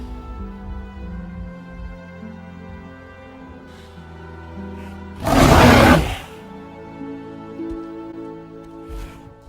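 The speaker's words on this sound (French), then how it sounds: "mais Kong rugit et le son s'arrête" King Kong lets out one loud, bellowing roar in the 2005 film, a single burst lasting about a second that rises sharply over a soft, sustained orchestral score.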